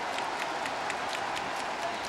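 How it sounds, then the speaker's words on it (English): A football stadium crowd at a Manchester United pre-season friendly against FC Seoul cheers and applauds in a steady, dense roar of clapping and voices that fills the whole moment without a break. "Got the crowd on their feet."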